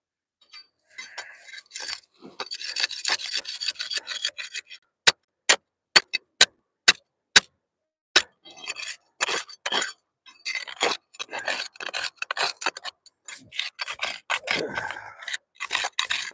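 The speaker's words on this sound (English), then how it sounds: "I think I'm going to have to sharpen" A file rasps in short, close bursts while a gold prospecting crevice tool is sharpened. A run of evenly spaced sharp metallic clicks breaks the rasping midway, and no one speaks.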